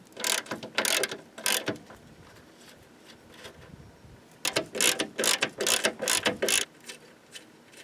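Ratchet wrench with a 13 mm socket loosening a ground bolt on a 2000-06 Chevy 1500, two bursts of quick clicking strokes, close and crisp, with a pause between.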